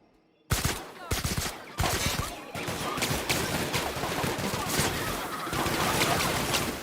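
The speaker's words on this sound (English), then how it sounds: "I was looking forward to doing some shooting anyway." Heavy gunfire in the video game The Outer Worlds, an abrupt loud volley of rapid overlapping shots and impacts that continues densely for several seconds, with a voice briefly talking.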